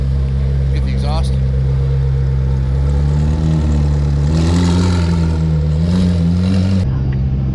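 A McLaren 765LT's exhaust drones loud and close, its pitch swelling and easing as it revs, with voices talking over the engine.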